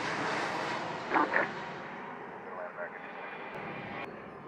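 An American airliner lands at an airport in Jamaica, its engine noise a steady broadband roar heard from a distance, with a couple of brief louder swells and radio voices in the background.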